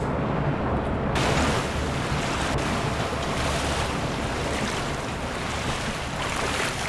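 Swimming through sewage water in the Black Mesa video game: dense, continuous watery rushing and sloshing, loud and close throughout with no pauses, no talk.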